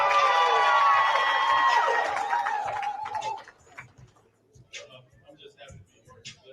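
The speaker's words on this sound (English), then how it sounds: "And then again, y'all give him a round of applause." A crowd at a National Signing Day event cheers and applauds a signee loudly for about three seconds, then the noise drops away to scattered taps and quiet talk.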